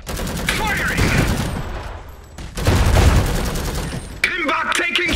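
Gunfire and explosions from units battling artillery mechs in the game Iron Harvest, a dense loud fusillade with booms and crackling shots, briefly dipping before resuming.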